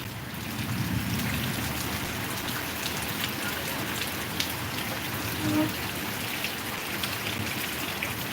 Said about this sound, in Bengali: আমরা বৃষ্টিতে বৃষ্টির পানি দেখতেছি